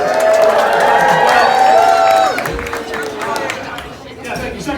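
An audience at a political campaign event in Washington, D.C. claps and cheers in a loud, dense wash of applause that gradually thins out and fades.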